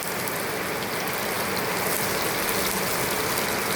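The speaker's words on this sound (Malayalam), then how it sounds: "ഇവിടെ ഭയങ്കര മഴയാണ്" Heavy rain pours outside during home cooking, a dense, steady hiss of drops on surfaces with no letup, loud and continuous throughout the few seconds.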